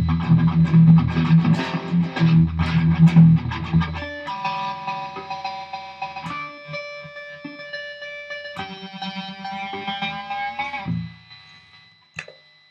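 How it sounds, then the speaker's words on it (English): Guitar run through a slicer effect, choppy distorted chords at first, then sustained chopped tones pulsing rhythmically before fading out. "Here's the slicer on its own."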